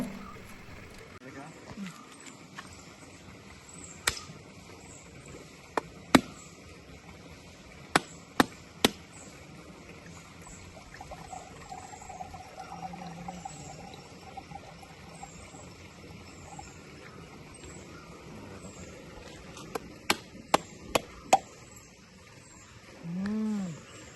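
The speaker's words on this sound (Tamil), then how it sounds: "தேங்காய் இங்கே இப்படி தான் உரிப்பாங்க" Coconuts are husked by hand on a spike. Sharp, scattered cracks and tearing thuds come in small clusters, some close together. A quiet background fills the gaps, with occasional low murmurs.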